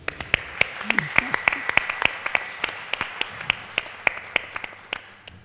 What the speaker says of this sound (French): On va applaudir pour la technique.